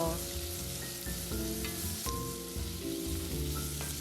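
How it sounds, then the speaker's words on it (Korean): Meat and minced garlic frying in butter in a pan, a continuous soft sizzle with occasional stirring, under steady background music. "고기 먼저 볶아줍니다. 다진 마늘 반 스푼에서 한 스푼 정도 넣고 볶아주세요."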